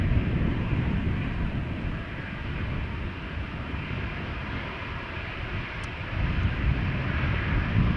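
Boeing 737-800 airliner approaching Amsterdam Schiphol Airport, a steady broad roar of jet engines heard from a distance, sustained throughout with slight swells in loudness.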